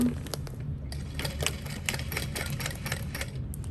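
A sewing machine with a cylinder arm stitches in a steady run of quick, close mechanical taps and whirring, fairly loud and alone, with a couple of brief pauses.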